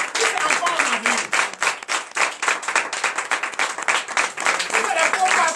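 A church congregation claps and applauds together, producing dense, sustained rhythmic clapping with crowd noise; a preacher's voice calls out over it at moments.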